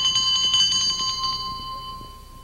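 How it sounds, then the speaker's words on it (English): A bell rings in a 1967 television variety show, a bright sustained metallic tone with rapid strikes at first, then fading as it rings out, fairly close and alone. "There's the bell, and I won't go in."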